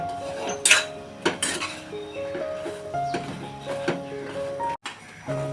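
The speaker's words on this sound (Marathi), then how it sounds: "हे बघा हे चांगलंसं हलवून घेत राहायचं कारण चिकटेल खाली ना म्हणून" A cashew and jaggery mixture for Malvani khaja is stirred in a pan, with repeated metallic scrapes and clanks of a spoon against the pan, close and irregular, over soft background music.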